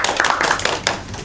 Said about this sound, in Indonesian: Tepuk tangan dong buat saya.